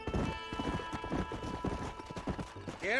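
Horse hooves clip-clop in steady rhythm while riding in Red Dead Redemption, close and loud over a continuous game soundscape, with a brief whinny-like sweep near the end.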